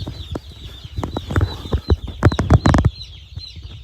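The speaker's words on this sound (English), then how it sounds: "we have got chicks." A large brood of farm chicks, 150 pullets and 150 cockerels, peep continuously in a high, thin chorus, broken by a run of sharp thumps and fluttering bursts nearby.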